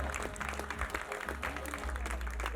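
An audience at a wedding event welcomes the groom with a steady wash of applause, many hands clapping at once, sustained and fairly distant with a faint crowd murmur underneath.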